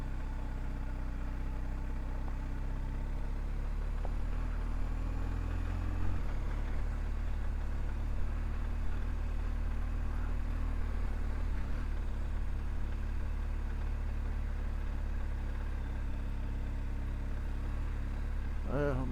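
An adventure motorcycle rides a foggy unpaved dirt road, Tatham Gap Road in western North Carolina, with a steady low engine drone and rushing wind that hold at a constant level throughout.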